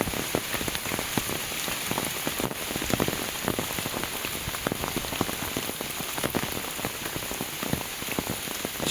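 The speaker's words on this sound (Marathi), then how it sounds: "पाऊस जास्तच वाढला आहे आता।" Heavy monsoon rain pours onto surfaces in a rural rice-farming village in Konkan, a dense, continuous close hiss of drops and patter with no voices.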